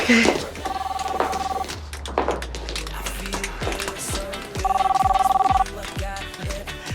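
A mobile phone rings in repeated electronic bursts, two clear ringing phrases close by, with people talking and moving around it.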